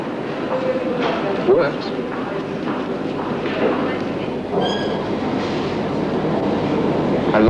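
Train at a railway station with airport-service announcements, a steady rumbling rail roar filling the scene while a voice speaks briefly over it, with a short metallic squeal partway through.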